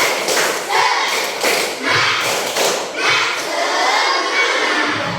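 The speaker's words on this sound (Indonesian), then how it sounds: "Tepuk semangat" Schoolchildren beat out a spirited clapping rhythm in a classroom, with several loud groups of claps and thumps mixed with excited shouting voices.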